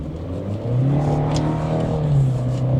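A 2024 Chevy Colorado pickup accelerates hard onto a busy highway, its engine building from a steady drone into a loud, rising roar that holds strong for a few seconds with no one talking.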